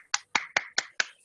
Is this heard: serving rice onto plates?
no